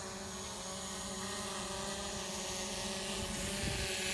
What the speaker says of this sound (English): and then the drone is going to move away.